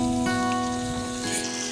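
A pork chop fries in a pan at a mountain campsite, giving a soft sizzle and spatter beneath a steady tonal hum, close and moderately loud, with no talking.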